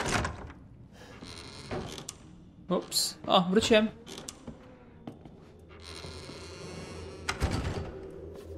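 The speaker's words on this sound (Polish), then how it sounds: "Niech ilby się drzwi same zamykają" In Resident Evil 7, a door swings shut on its own with a few heavy thuds and mechanical knocks in the middle, while someone talks over the game sounds.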